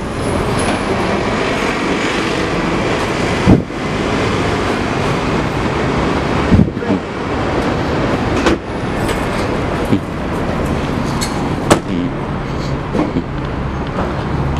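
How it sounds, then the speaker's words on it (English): Two police paddy wagons drive past, giving a continuous loud roar of engines and road noise with a few sharp knocks and clatters, close to the listener. "What we have here is two paddy wagons."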